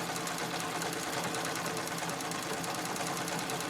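A sewing machine stitches thick thread on a gold bag with a steady, rapid mechanical whirr that runs unbroken throughout.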